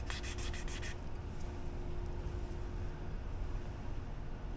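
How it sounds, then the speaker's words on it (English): Emery sandpaper rubbed over a scratch on a mountain bike suspension fork, a steady close abrasive scraping that runs throughout, with a few quick rhythmic strokes at the start. "I got some other sandpaper that I had on hand besides just the emery."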